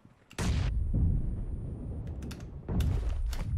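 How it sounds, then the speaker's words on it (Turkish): A grenade blast in the battle royale game PUBG Mobile arrives as a sudden loud, close boom that rumbles on, followed moments later by a second heavy burst. "Bomba geldi abi içeriye."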